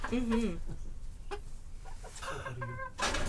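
Several chickens, including a young pullet, cluck and squawk nearby in bursts, with quieter stretches of low background noise between calls.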